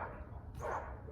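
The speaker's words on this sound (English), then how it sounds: "that constant barking of that dog over there" A dog barks from two houses down, heard from outside a home: a short run of muffled, distant barks over steady background hum.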